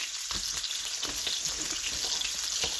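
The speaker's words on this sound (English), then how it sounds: "I'm just sauteing down some celery" Celery sautéing in a pan gives a steady close sizzle and crackle throughout, with soft stirring scrapes mixed in and no talking.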